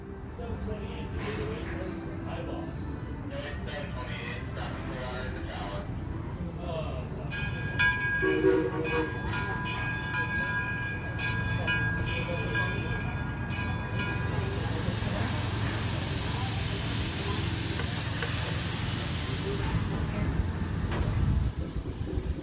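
Aboard a moving train on the Greenfield Village Railroad, a steady rumble of wheels and carriage runs under a voice speaking, with a bright whistle or tonal hiss midway and a broad steam-like hiss later.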